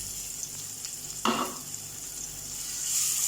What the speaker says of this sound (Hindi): अब ऑनियन को हमें सौते करना है, इसे फ्राई करना है ये लाइट पिंक कलर आने तक।